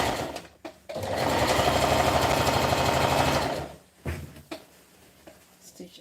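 A sewing machine runs in one continuous burst of rapid, even stitching for about three seconds, close and fairly loud, framed by brief handling clicks before and after.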